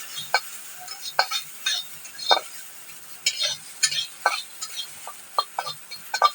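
Chopped ingredients being lightly fried in a kadai while making Rajbongshi-style kachu leaf (taro leaf) dish, with repeated stirring scrapes and clinks over a soft sizzle, close and intermittent throughout.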